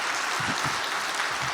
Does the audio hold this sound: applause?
yes